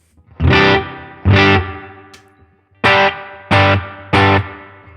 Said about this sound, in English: So that's our slightly wetter spring effect.